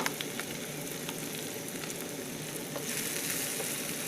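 Eggs frying in a pan for scrambled eggs, a steady soft sizzle throughout that grows slightly brighter and louder toward the end, with faint light clicks of a utensil.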